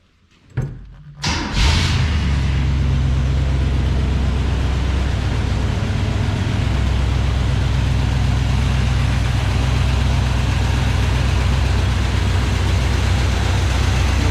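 A 1983 Chevrolet K5 Blazer engine cranks briefly and fires, then settles into a loud, steady, close idle with a deep rumble that runs to the end, no talking.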